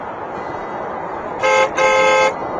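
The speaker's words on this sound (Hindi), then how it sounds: "शेखर, पीछे गाड़ी!" A car horn blares twice in close succession, loud and nearby, with a steady tone over a low traffic rumble.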